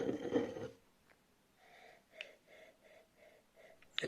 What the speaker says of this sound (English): So let's have a sniff.